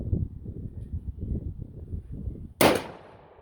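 A single sharp rifle shot cracks at an outdoor shooting range from a .223 or 6.5 Creedmoor rifle, loud and close, followed by a decaying echo, after several seconds of low rumbling handling and background noise.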